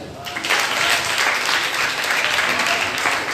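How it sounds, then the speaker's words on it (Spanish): At a talk during an event at a dance club, an audience breaks into dense, sustained applause that fills the room at an even level throughout. "Un aplauso para Derly."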